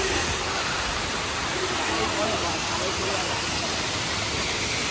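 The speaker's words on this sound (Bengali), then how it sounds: "এই একদম ঝর্ণার কাছে চলে এসেছি" Broadband rushing roar of Que Khola Falls in East Sikkim, heard close to the cascade, a steady loud wash of falling water filling the whole stretch without pause.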